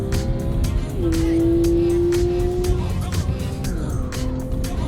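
Porsche 911 GT3 lapping Canadian Tire Motorsports Park, its engine whining high and rising through gears with quick shift breaks, heard from on board beneath someone talking.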